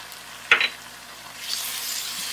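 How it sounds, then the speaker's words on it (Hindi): Onion with ginger garlic paste frying in a pan for chole: one sharp utensil clink, then a soft, steady sizzle that builds gradually and keeps going. "तो अच्छी तरह से फ्राई करेंगे प्याज के साथ, ताकि जो इसके अंदर स्मेल है वो ख़त्म हो जाए।"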